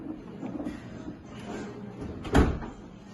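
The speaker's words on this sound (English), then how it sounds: "So if you want to close the door, pull the handle," A secret bookcase door closing after its handle is pulled, low rumbling movement ending in a single firm thud near the end, alone with faint background noise.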